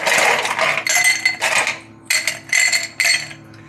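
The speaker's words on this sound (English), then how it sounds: "We get some ice cubes." Ice cubes dropped into a glass, a series of bright clinks in irregular bursts, close and fairly loud, with short gaps between handfuls.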